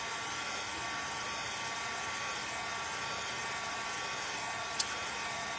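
A shrink-wrap heat gun being used to dry acrylic paint on a canvas, giving a steady, loud, unbroken roaring blow throughout, with one faint tick near the end.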